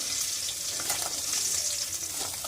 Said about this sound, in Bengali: বাকি মাছগুলো ভাজা হয়ে গেছে,